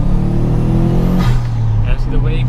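A turbocharged Subaru Impreza P1 engine drops off boost inside the car, its loud rumbling drone falling away into anti-lag pops and crackles as people talk over it.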